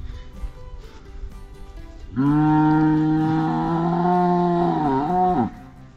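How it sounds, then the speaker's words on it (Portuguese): A Nelore bull in a herd on a farm gives one long, loud, deep low that lasts several seconds and rises out of quieter background farmyard noise. "Olha os bois, vai acabar brigando, hein?"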